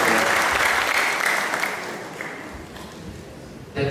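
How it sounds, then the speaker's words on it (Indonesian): An audience applauds a student speaker at a religious talk, a loud burst of many hands clapping that gradually fades, with a brief fresh swell at the very end. "kita beri aplaus kepada beliau"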